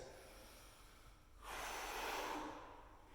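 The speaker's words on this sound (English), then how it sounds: "Breathe out as you come up." A single forceful exhale through the nose or mouth during stomach crunches in a conditioning circuit, a short breathy rush that swells and fades within about a second, quiet and close, with no talk over it.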